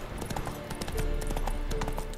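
Horse hooves clip-clop at a steady gallop while riding through The Witcher 3 video game, a continuous rhythmic drumming of hoofbeats close up, mixed with game ambience.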